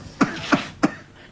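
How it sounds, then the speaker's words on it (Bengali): An old man coughs three times in quick, evenly spaced bursts, close and fairly loud, with quiet room tone between them. "একটু আস্তে কাশতে পারবে?"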